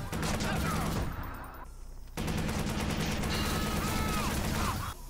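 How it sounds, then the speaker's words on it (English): Machine gun fire in Watch Dogs rattles out in dense, rapid bursts, loud and close, breaking off briefly around the middle before the shooting resumes. "I guess we're loud and proud with the machine gun time"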